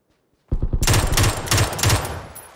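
Rapid automatic gunfire in the video game PUBG breaks out suddenly after a quiet start, loud and close, as a steady stream of shots in several sustained bursts.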